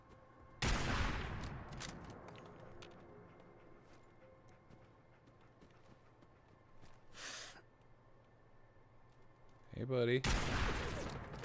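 Gunfire from a weapon in Fallout 4 with the Sim Settlements 2 mod: two loud bursts at the start and end with a sharp crack between, over a quiet humming background, and a short spoken greeting.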